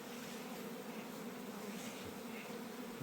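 Honey bees buzzing in an opened hive during an inspection, a steady, dense droning hum that stays even and fairly soft throughout, with no voices.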